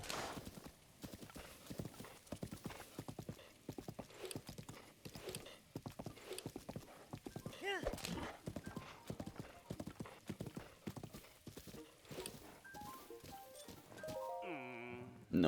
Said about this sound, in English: Get me the horse.